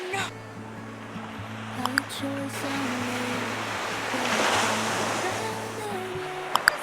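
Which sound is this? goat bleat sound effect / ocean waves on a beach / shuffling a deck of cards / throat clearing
ocean waves on a beach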